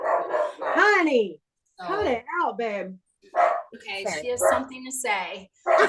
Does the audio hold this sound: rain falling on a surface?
no